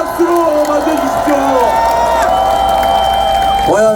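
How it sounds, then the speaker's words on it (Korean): An election rally crowd in Ilsan cheers and applauds to welcome a presidential candidate, a continuous loud wash of voices and clapping under an amplified announcer's voice. "뜨거운 박수로 맞아주십시오"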